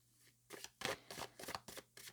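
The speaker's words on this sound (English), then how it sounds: "I'm shuffling my own oracle deck" A deck of oracle cards being shuffled by hand: six quick, papery riffling bursts in a steady rhythm, close and fairly soft, with no talking.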